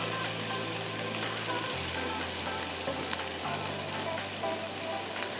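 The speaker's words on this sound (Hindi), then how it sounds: "यहाँ प्याज को हमें तलना है," Onions frying in a pan until brown for chicken Saoji biryani give a steady, close, dense sizzle over a low constant hum, with no talking.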